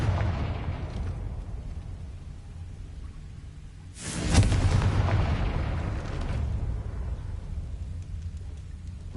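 A Confringo blasting spell explodes in Hogwarts Legacy, a sharp bright burst rising over a steady low rumble of ambience, then a fading roar that lingers for a couple of seconds before settling back to background.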